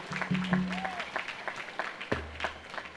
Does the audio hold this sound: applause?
yes